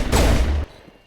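A loud burst of gunfire from a weapon in Mass Effect rattles for about half a second and then cuts off abruptly, leaving a faint tail. No one speaks.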